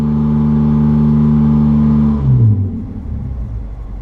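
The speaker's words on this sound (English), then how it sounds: "I can take the engine down now." A car engine running at a steady idle-like hum is shut down, its tone sliding downward and fading into a low rumble as it winds off.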